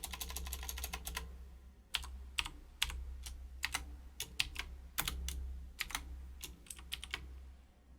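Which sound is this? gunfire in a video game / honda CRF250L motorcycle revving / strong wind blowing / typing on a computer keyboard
typing on a computer keyboard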